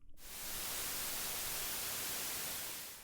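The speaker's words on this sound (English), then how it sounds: "here is a sample of white noise" White noise from a noise machine, a flat broadband hiss that switches on abruptly and holds steady and even, at quiet level, with no other sounds.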